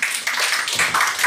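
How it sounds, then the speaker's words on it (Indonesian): A small audience claps hands at a talk on Islam in Indonesia, an uneven patter of individual claps with a few rhythmic bursts, close and moderately loud. "Kita tepuk tangan dong"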